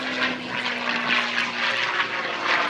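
A North American P-51D Mustang propeller fighter plane roars past at an air show, its engine droning loud and steady with a rough, throaty rumble.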